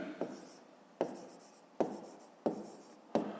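A pen writes on paper, producing five crisp strokes with scratchy tails at a roughly even pace, close and quiet with no talk.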